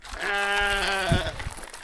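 A single lamb bleats once, a wavering, nasal cry lasting about a second, followed by quiet outdoor noise.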